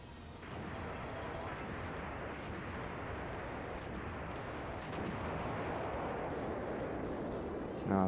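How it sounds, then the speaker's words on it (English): A bomb going off in the arcade shoot-'em-up DoDonPachi makes a dense, roaring wall of explosive noise mixed with rapid gunfire. It holds steady and loud for about eight seconds, then swells briefly at the end. "but I'll just finish this out with a bomb."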